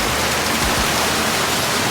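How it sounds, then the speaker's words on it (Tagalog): Heavy rain pours down in a dense, steady roar that fills the whole clip, loud and close with no gaps or voices. "ang lakas ng ulan"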